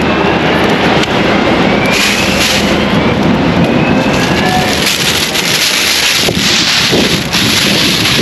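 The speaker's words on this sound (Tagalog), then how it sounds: "hangin-hangin nga eh" Constant gusty wind rushes loudly across the microphone, a dense roar with a few brief dips, no voices.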